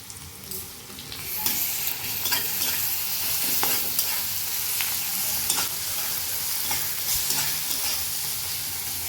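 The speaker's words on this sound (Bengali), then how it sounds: "পেঁয়াজটা আমি একটু লাল করে ভেজে নিই" Onions fried until reddish, with garlic and a little ginger added, sizzle steadily in a pan, joined by frequent scraping stir strokes; close and fairly loud throughout, with no talking.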